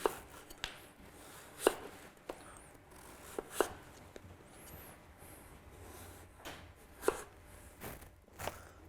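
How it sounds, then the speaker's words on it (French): A chef's knife slices food into thin strips on a board in a Christmas cooking show, with sharp, sparse chops spaced irregularly over a quiet kitchen background. "on va couper"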